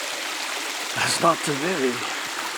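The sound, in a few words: stream water running over rocks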